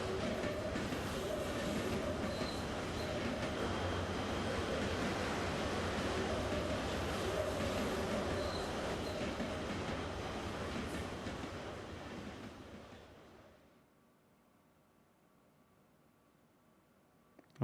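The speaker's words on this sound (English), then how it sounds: "You can still hear the train going in the background." A train rumbles and clatters steadily in the background of the video game Fallout London, loud and unbroken for about thirteen seconds before fading away to near silence.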